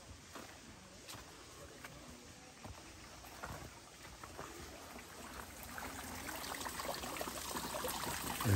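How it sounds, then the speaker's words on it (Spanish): Water trickling from natural seeps on a hillside in El Salvador, a faint, steady wet hiss with small irregular drips, gradually growing slightly louder toward the end. "se les dicen lloraderos de agua"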